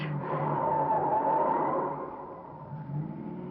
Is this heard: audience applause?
no